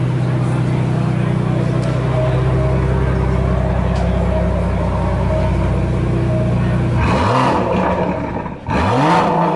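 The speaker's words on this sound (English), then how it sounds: "Switched over into sport. So we give it a bit of a rev." A new Aston Martin Vantage engine, switched into sport mode at the Goodwood Festival of Speed, runs loud and steady before two sharp revs climb and drop near the end, with no voice over it.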